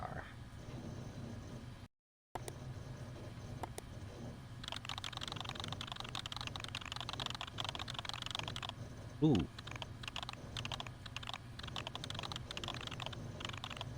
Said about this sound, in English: That's some good typing, in fact.